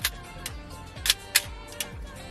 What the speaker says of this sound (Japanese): で、シャッター音はね